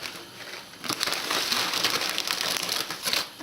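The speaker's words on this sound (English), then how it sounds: "I'm going to add the pasta to the pan." Dry tagliatelle pasta tipped into a pan of hot water, a close crackling, crunching rustle that starts after a short pause and carries on unevenly for a few seconds, with no talking.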